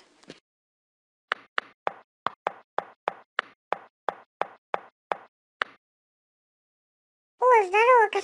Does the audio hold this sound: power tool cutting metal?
no